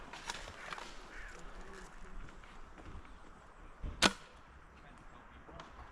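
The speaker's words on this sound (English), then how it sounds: "piston hitting the, without the air brake, hitting the cylinder head" A single sharp crack of a Novritsch SSG-11 airsoft sniper rifle shot with a metallic clack of the piston hitting the cylinder head without an air brake, standing out once against quiet outdoor background noise.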